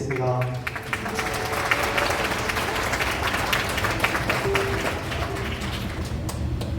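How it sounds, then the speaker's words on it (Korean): Wedding guests in a wedding hall applaud after the bride places the ring on the groom's hand, sustaining a steady, moderately loud patter of clapping for several seconds, with faint voices underneath. "자, 다시 한번 여러분의 박수 부탁드립니다"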